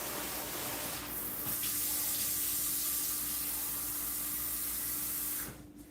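Water runs from a kitchen tap in a steady, close hiss and splash for several seconds, then stops abruptly as the tap is shut off.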